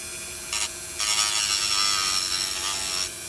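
A heated tool on its lowest setting grinds and melts a hole into a plastic model car, giving a bright buzzing, rasping whine that comes in short bursts and then holds steady for about two seconds, close and moderately loud.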